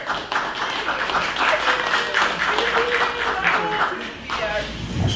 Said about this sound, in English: Please give us a round of applause to Peter.